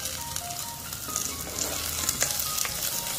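Small onions frying in a pan for Kerala fish curry, a continuous close sizzle with light crackling and stirring, heard with no talking.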